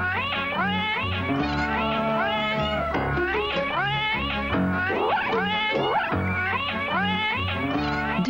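Several cats in a Ronron cat food advert meow in a dense, overlapping chorus, some drawn-out and caterwauling, close and loud throughout with no talk.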